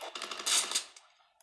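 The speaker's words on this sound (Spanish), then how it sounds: "Qué bueno ese disparo." A rapid burst of gunfire in a duo battle-royale shooter game, a short, sharp volley of crackling shots lasting about a second that then fades out.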